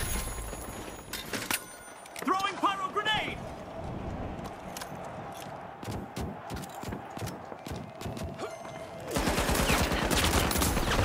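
A rocket launcher fires in The Finals during a chaotic shootout, with rattling gunfire and clattering impacts throughout and a loud, sustained blast in the final seconds.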